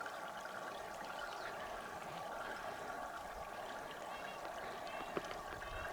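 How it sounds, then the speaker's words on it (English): Water trickles out of a rock on a smoky backcountry climb down in Montana's Bitterroot mountains, a faint, steady gurgling wash with one small click near the end. "Check out the water come out of this rock."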